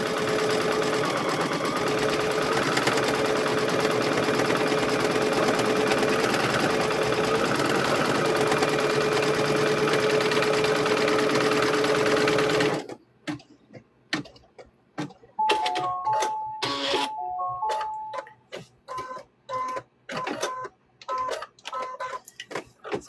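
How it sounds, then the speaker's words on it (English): A sewing machine stitches fabric for quilt squares, first with a long, steady, fast whirring run, then with short stop-start bursts of stitching. Close and clear, with no talking. "Once it stitches down, you're good."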